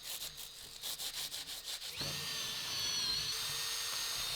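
A drill bores into a hollow-body concrete guitar, first in short rhythmic bursts, then in one continuous whining grind with rising tonal squeals, close and loud with no talking.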